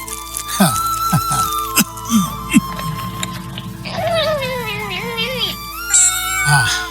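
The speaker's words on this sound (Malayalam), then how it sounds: "അല്ല കുറിഞ്ഞേ പൂച്ചകൾക്ക് മീനാണ് എല്ലാരും കൊടുക്കുന്നത്" A cat meows several times up close, short rising calls, with a person talking alongside.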